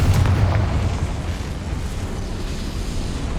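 In Hogwarts Legacy, a Confringo blasting spell explodes with a loud booming burst that fades into a rumbling roar and lingering noise.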